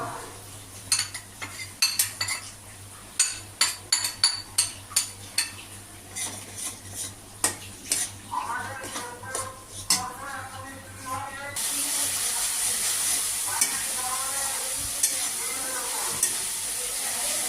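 Cumin, Kashmiri chili, coriander, turmeric and hot chili powder fried in oil for a small-fish curry, with a run of sharp metal spoon scrapes and taps against the pan, then a steady loud sizzle as the spices cook.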